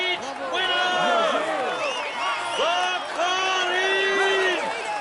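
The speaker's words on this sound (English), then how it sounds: "Ladies and gentlemen, applaud him loudly." A video game crowd cheers and roars for a Tour de France stage winner, a loud continuous swell of voices with whoops through the whole stretch.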